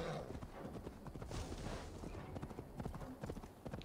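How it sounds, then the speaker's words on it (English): Rapid hoofbeats of a galloping horse in the video game Assassin's Creed Valhalla drum continuously, fairly close, with a faint voice murmuring underneath. "My horse is running there."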